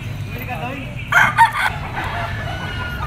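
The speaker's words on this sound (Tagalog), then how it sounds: "talisay yellow legged straight comb bull stag" A yellow-legged, straight-combed talisay bull stag crows at a Pasig pet market, one loud, close crow of about half a second over steady background murmur and crowd noise.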